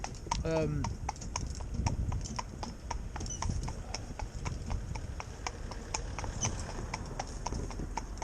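A Morgan horse walks out alone, its hooves clip-clopping in a steady, even rhythm close by, with a brief whinny near the start and someone talking over the footfalls.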